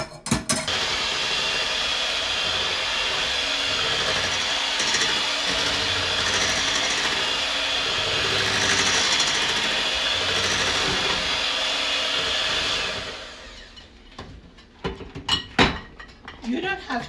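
A hand mixer whirs steadily through banana bread batter for around twelve seconds, then cuts off, followed by scattered clinks and taps of utensils against the bowl.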